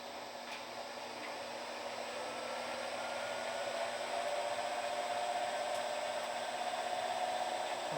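A honey extractor runs during a beekeeping harvest, producing a steady, broadband whir that builds slightly in intensity and holds at a constant level, with no talk over it.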